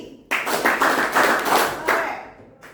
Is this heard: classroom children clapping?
yes